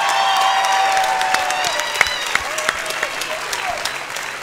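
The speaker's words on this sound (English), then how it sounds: "let's have a great round of applause for both fighters" Crowd applause after a Muay Thai fight in a Florida convention center hall: steady clapping from a sizeable audience with a few scattered cheers, fairly close and sustained, fading slightly toward the end.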